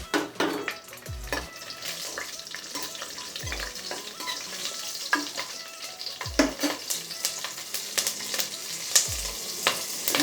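Green chillies fry in hot oil for a coconut milk peas pulao, giving a constant crackling sizzle with occasional spatula scrapes and a few dull knocks against the pan.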